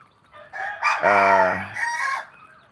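A rooster crows once, close and loud, among a small backyard flock of hens, the call rising into a sustained harmonic cry before trailing off with softer clucks.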